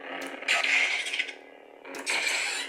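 Two sweeping hums from a Darth Vader toy lightsaber swung back and forth, each a bright buzzing swell that rises and fades, fairly close and loud, separated by a short quieter gap.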